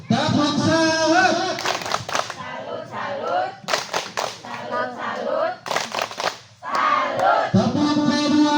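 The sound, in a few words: audience doing a salute clap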